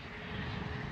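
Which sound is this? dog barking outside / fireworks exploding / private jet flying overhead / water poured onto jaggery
private jet flying overhead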